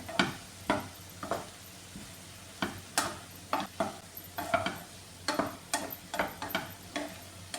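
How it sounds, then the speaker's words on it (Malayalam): An ivy gourd stir-fry is being mixed in a pan, giving irregular scraping taps of a spoon against the pan over a faint sizzle, close up with no voices. "ഇനി ഇതിലേക്ക് ആവശ്യത്തിലുള്ള ഉപ്പ് ചേർത്ത് കൊടുക്കാമേ ഇതെല്ലാം കൂടെ ഒന്ന് മിക്സ് ചെയ്യാമേ"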